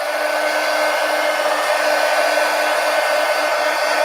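Hair dryer blowing on a wet paint wash, a loud, steady whooshing drone with a constant motor whine, close and uninterrupted, with no talk.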